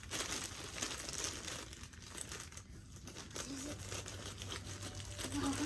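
A small plastic shopping bag from a clothing haul crinkles and rustles up close in bursts as it is opened, with faint voices in the background.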